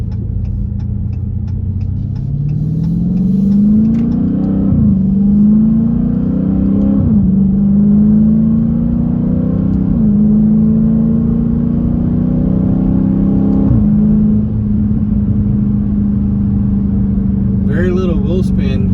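A Dodge Challenger Widebody on Eibach Pro-Kit lowering springs accelerates hard on a test drive, its engine note climbing through several gear changes in repeated rising sweeps, loud and close inside the cabin, with a brief burst of talk near the end.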